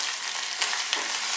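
Dried red chillies, curry leaves and asafoetida sizzle in hot oil for tempering, a steady loud crackling hiss with a couple of sharper pops, close and alone.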